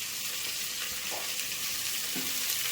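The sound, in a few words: sautéing onion and tomato in a pan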